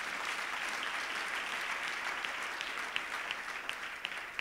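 A church congregation at a live Friday service claps hands continuously in a dense, even roar of applause that holds steady from start to finish, heard from a slight distance.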